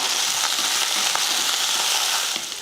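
Onions sautéing in a pan with dried chillies, curry leaves and coriander, a steady close sizzle and frying hiss with small crackles and pops throughout.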